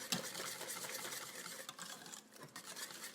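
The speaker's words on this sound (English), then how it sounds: "whisk everything together" Sauce ingredients for a five-cheese baked macaroni and cheese are whisked together in a bowl, producing a quiet, rapid, continuous scraping swish with no speech.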